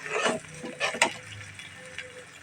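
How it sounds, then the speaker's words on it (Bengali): A spoon scrapes and knocks around a cooking pan while homemade sour yogurt is mixed in for a village-style hilsa pulao, giving a few quick irregular strokes over a soft sizzle. "টক দই, বাসায় বানানো টক দই দিয়ে দেব। একটু নেড়ে দিব সুন্দর মতো।"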